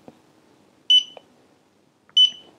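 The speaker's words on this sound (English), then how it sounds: "Simply hold this power button here and wait for three beeps." Two short electronic beeps from a Smart Sensor AS8903 carbon monoxide and hydrogen sulfide gas meter powering off, spaced about a second apart, clear and close against near silence.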